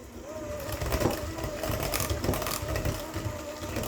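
A KitchenAid cordless hand mixer whirs steadily through cake batter in a home kitchen, a close, continuous motor hum with slight wavering pitch, running without pause for a few seconds.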